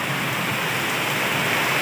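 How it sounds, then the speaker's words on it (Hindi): Heavy monsoon rain pouring down on a garden with wind, a dense, loud, continuous hiss with no voices. "गाइस इधर बारिश देखिए कितना तेज़ बारिश हो रहा है"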